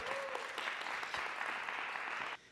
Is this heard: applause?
yes